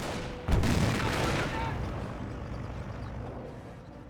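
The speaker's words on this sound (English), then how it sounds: "We have a lot of incoming fire." Incoming gunfire in the World War II strategy game Company of Heroes, opening with a sharp heavy blast that rolls into a long fading rumble of shots and explosions, with a voice speaking over it.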